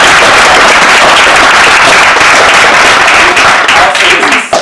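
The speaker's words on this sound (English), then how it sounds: "We give them a round of applause." A school audience gives a loud, sustained round of applause for teachers at a Scriber Lake High School performance with Seattle Public Theater, dense clapping close and full before trailing off at the end.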